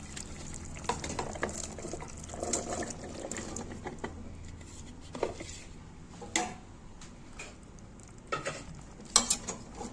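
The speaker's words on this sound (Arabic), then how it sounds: "نقلبه بقى تقلبتين كده مع الخضره" Taro chunks are stirred into vegetables sautéing in oil in a pot, with a low sizzle under scraping spoon strokes and a few sharper clanks against the pot.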